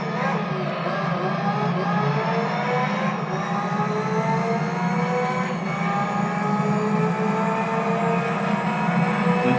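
A race car engine in Gran Turismo 3 drones steadily around a track, rising and falling in pitch through gear changes and cornering, continuous and fairly loud with no talk.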